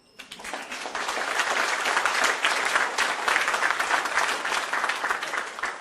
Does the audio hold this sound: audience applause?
yes